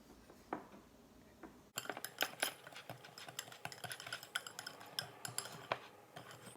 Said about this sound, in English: I have a whisk right here, so I'm going to go ahead and mix in my ingredients.